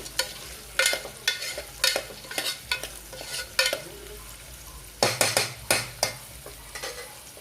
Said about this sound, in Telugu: ఇవి కూడా లైట్ బ్రౌన్ కలర్ వచ్చే వరకు వేయించుకోవాలి.